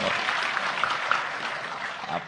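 An audience claps during a talk by Cak Nun; dense, even applause runs through the whole short stretch with a voice faintly mixed in.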